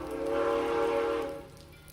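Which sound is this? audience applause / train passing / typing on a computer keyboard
train passing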